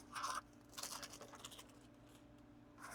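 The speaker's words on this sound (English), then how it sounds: "Get this open. I hate these little plastic clamshell things." A plastic clamshell pack holding R2-D2 model parts is pried open: faint, close crinkling and crunching bursts, one sharp rustle at the start and a few scattered snaps after, with no talking.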